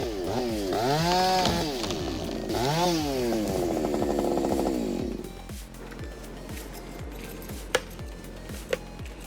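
A chainsaw cuts through timber during tree felling, its engine loud and close with rising and falling revs for about five seconds before settling into a steadier idle chop with a couple of sharp knocks.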